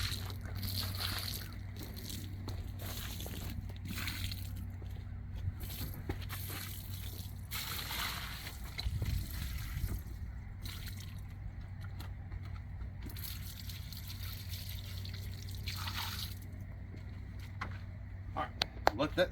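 Soapy water sloshes and trickles faintly while truck carpet is presoaked, soft wet splashes and drips coming in short bursts with quiet gaps, someone talking intermittently over it.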